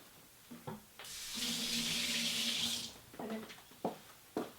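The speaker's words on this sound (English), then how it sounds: "I'm going to cool this off for just a bit with the water." Kitchen tap water runs steadily into a sink over hot boiled eggs for about two seconds, a broad hissing rush, with a few brief clatters and handling knocks before and after.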